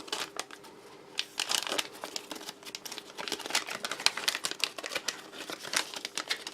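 A sealed tea bag packet from a Dutch 24-hour ration pack being torn open at its tear notches, giving close, dry crinkling and ripping of plastic foil in quick irregular bursts, no talk.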